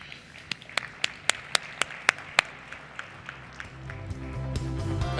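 Scattered, sparse handclaps ring out at an awards ceremony, about nine sharp separate claps in a loose rhythm, then fading into a rising murmur of crowd noise.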